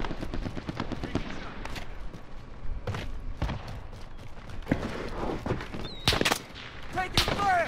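Rapid bursts of gunfire in the video game Call of Duty Warzone, sharp repeated shots with louder cracks near the end, set against game chatter and voices.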